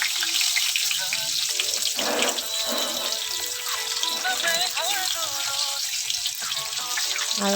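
Eggs, split open with the yolks cooked through, fry in a pan with a steady, loud sizzle throughout, and a voice speaks over the sizzling.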